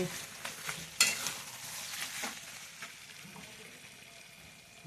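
Goat meat stirred and frying in a pan, a steady soft sizzle with a sharp clink of the utensil against the pan and a few scraping stirs.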